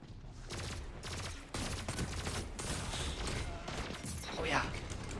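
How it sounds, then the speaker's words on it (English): Rapid bursts of heavy machine-gun fire in the Destiny 2 raid, with repeated staccato volleys broken by short pauses while a player talks over the shooting throughout. "That's a machine gun."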